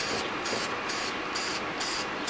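An aerosol spray can puffs paint onto a redwood sign in steady bursts, about five short sprays in quick even rhythm, close and hissing, with no talk.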